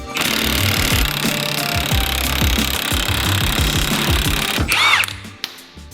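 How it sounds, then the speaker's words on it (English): Impact gun on a big-turbo Toyota Sera, run with a nut to pull new wheel studs through the hub: a loud, close, continuous hammering rattle for about five seconds that then cuts off. "we can use a nut and the big gun to pull the new studs through"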